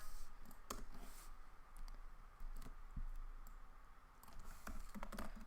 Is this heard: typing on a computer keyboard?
yes